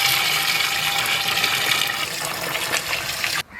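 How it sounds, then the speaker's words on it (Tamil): Water pours steadily into a pan of egg curry with a loud, continuous splashing gush, then cuts off abruptly at the end. "கறிக்கு போதுமான அளவு பச்சை தண்ணியை சேர்த்துக் கொள்வோம்."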